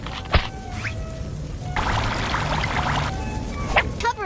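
Water poured onto a towel in a cartoon, heard as a rushing splash in the middle, with scattered drips, squeaks and cartoon sound effects around it.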